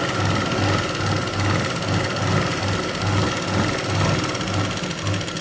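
Sewing machine running continuously while stitching a 36-inch blouse, a loud close mechanical whir with a steady rapid needle rhythm and faint periodic pulsing, no voices.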